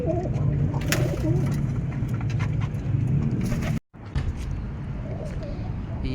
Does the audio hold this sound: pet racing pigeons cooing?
yes